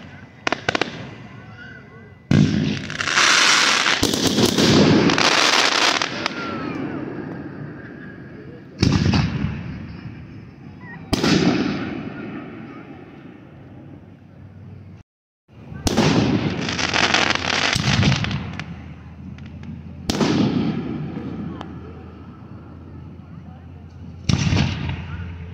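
Fireworks display at the Penn Valley Show in Pine Grove, Pennsylvania: loud, booming bursts come in repeated clusters with crackling tails and a brief pause, while spectators talk and react between the blasts.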